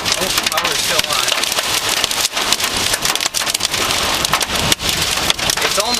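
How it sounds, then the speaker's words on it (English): Heavy storm rain pours down steadily and loudly throughout, a dense continuous hiss with drops pattering on surfaces during a summer storm chase, with a voice speaking over it. "That's how the rain is falling."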